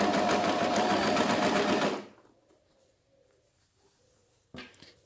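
Sewing machine stitching elastic onto a face mask, a loud continuous mechanical whir for about two seconds that stops abruptly, followed by near silence and a brief short burst of the machine near the end.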